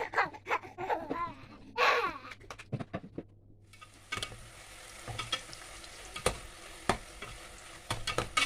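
Chak-chak dough fries in hot oil with a steady broadband sizzle that swells from about four seconds on, marked by occasional clinks and stirring knocks, and no speech over it.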